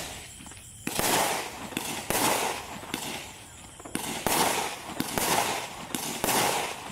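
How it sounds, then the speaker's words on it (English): An Aldi fireworks cake with strobes and sizzling comets fires in a rapid series of sharp bursts, each followed by crackling sizzle, loud and repeating roughly every second, with no talking. "So some nice strobing effects in there that last fairly well."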